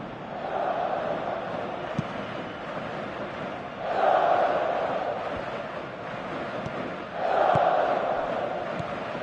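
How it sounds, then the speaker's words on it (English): Stadium crowd noise from the football video game PES 2018, a steady roaring wash of fans that swells louder twice in rising surges, with no talk over it. "you can feel and hear how the crowd are reacting to all of this"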